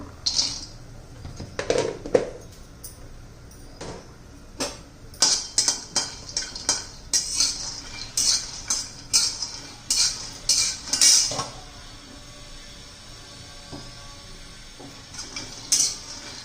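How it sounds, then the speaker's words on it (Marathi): Peanuts rattle and scrape in a hot kadhai, making a steady run of sharp clicks and taps as they are dry-roasted and stirred, close by with no talking. "कढई गरम झालेली आहे थोडीशी शेंगदाणे भाजून घेऊ"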